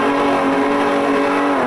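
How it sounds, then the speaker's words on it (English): A supercharged Holden engine in a 4x4 competition vehicle revs hard and continuously, heard close and loud from on board, with a high whining tone and no talk. "revs on board for the supercharged Holden"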